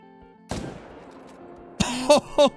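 A single sharp rifle shot at a moose in Call of the Wild rings out loud and close, its echo fading slowly, followed by short excited voice sounds from a player.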